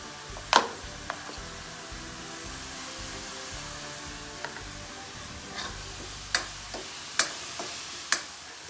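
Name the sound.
tadka (tempering) sizzling while cooking dal makhani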